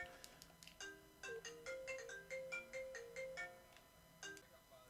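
A mobile phone ringtone plays a repeating melodic tune in short bursts, loud and close, during a session of the FIFA video game, with no talk over it.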